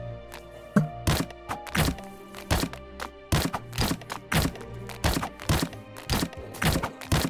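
Blocks being placed one after another while building a staircase in the video game PixARK, a series of short, sharp thunks and cracks in an irregular rhythm, close and fairly loud, with no talking.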